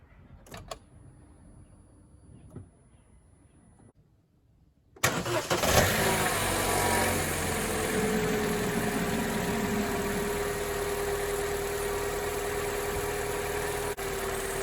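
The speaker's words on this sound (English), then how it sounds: "Okay, enough chat, let's start the car." A 2014 Opel Corsa D 1.4 petrol engine cranks and fires after a few seconds of quiet clicks and handling noises, then settles into a steady, even idle close by.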